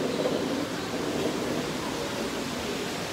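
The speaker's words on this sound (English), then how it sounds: "There's like a mini waterfall here." A small indoor waterfall in Zhongshan Metro Mall, Taipei, gives a steady, even rush of falling water, moderately quiet and continuous with no voices.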